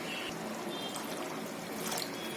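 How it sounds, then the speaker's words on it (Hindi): About half a cup of water is poured into a mutton bone curry, a soft continuous trickling splash at moderate volume with no talking. "तो इसमें हम आधा कप के करीब पानी डाल देते हैं"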